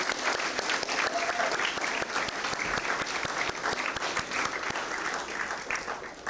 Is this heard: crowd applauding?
yes